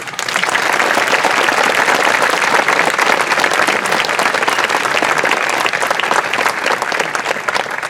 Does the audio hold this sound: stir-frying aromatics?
no